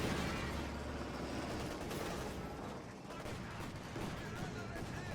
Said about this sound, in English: So heavy shots flying into the base.